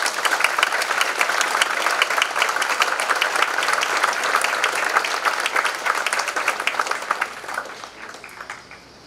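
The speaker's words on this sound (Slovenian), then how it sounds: "In jaz mislim, da si res zaslužite vsi en velik aplavz." A large audience at a health centre's 95th anniversary ceremony claps loudly and steadily for several seconds, the dense applause thinning and fading out at the end.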